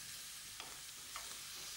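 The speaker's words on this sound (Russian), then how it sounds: "в сковородку, вы увидите, как здорово поджарилась баранина." Lamb sizzles in a hot frying pan as the pieces are turned, a steady close hiss of frying fat broken by two soft scraping turns, with no talking.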